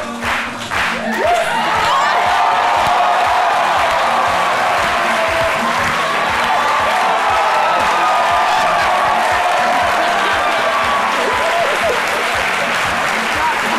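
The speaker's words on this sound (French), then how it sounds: "On va d'abord applaudir" Sustained, loud audience applause for a contestant on a TV show, many hands clapping steadily, a crowd filling the space, with faint voices underneath.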